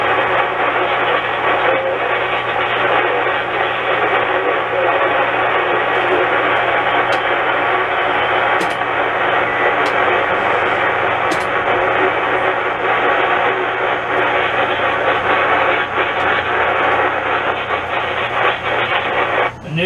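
Steady, loud CB radio static hiss on 27 MHz from a nearby electrical storm, received on an Anytone Alpha Tango Quad 5 Plus, with faint crackling bursts and a low hum running continuously throughout.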